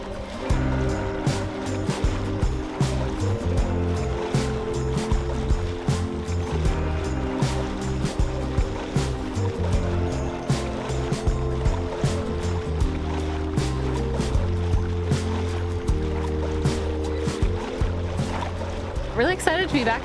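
Small sailboat tacking out of a passage toward the open Pacific, with winch ratcheting in rapid clicking runs and waves washing against the hull, while a person talks throughout.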